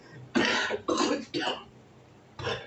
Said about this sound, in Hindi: सॉरी, खांसी बहुत हो गई है।